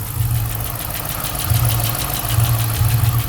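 A high-mileage 5.7 liter Hemi V8 idling with a mysterious tick, a loud steady low rumble with pulsing throb and a fast light ticking running through it, no talk.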